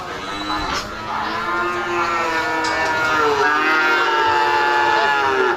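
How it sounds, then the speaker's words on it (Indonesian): Cattle mooing at a cow market, several loud, drawn-out moos overlapping one after another, close by, with a busy background hum of the crowded market. "ini adalah sapi-sapi."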